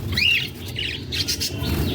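Java sparrows chirp in quick, high twittering bursts, several overlapping calls close by over a steady low background hum.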